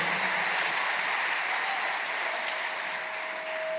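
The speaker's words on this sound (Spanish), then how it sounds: "Denle una ofrenda de palmas al Señor." Sustained applause from a church congregation during a Spanish-language morning worship service, steady and dense throughout, fairly loud and filling the room, with no talking over it.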